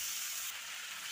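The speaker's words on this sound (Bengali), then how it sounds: "মটরশুঁটিটা দিয়ে বেশি ভাজবো না" Green peas fry in a pan with a steady, soft hissing sizzle that continues briefly without any talk.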